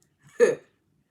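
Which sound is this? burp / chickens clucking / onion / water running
burp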